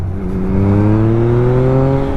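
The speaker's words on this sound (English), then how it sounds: "you can actually hear the engine just slowly pick up in the RPMs" A 2021 Yamaha MT-09 motorcycle engine revs at half throttle, its loud, close drone climbing slowly and smoothly in pitch.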